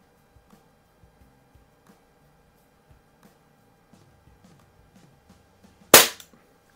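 One sharp, loud air pistol shot at a splatter target, alone after near silence with faint ticks before it.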